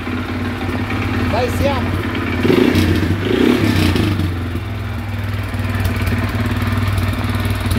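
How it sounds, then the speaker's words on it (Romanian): A Dinli 801 350cc ATV engine idles steadily with an even, close mechanical clatter and a slight swell in the middle, while someone talks over it. "Băi, motorul merge tipic, curat."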